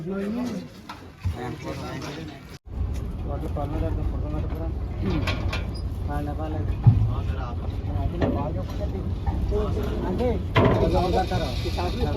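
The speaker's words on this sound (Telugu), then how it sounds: "సో ఇంజిన్ అయితే స్టార్ట్ చేసి మన బోట్ జర్నీ అయితే స్టార్ట్ చేశారనమాట" A river boat engine at Pattiseema rumbles steadily in the background, low and continuous, while people talk over it.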